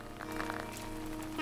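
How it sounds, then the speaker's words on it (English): Steady rain falling in the video game Animal Crossing New Horizons, a soft continuous patter spread across the clip, with faint sustained in-game music tones beneath and no talk. "Like, it's in the rain, too."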